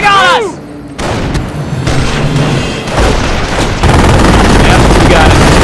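Gunfire and booming blasts in the World War II strategy game Company of Heroes, loud machine-gun bursts and heavy impacts layered with battlefield noise and shouted voices.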